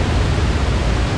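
Bali waterfall water pours in a constant, loud, full-bodied rush across the whole moment, with nothing else audible.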